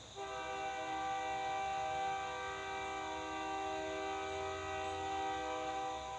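Train horn blaring as a train passes: one long, steady, loud tone sustained for about six seconds with a low rumble beneath, no talking.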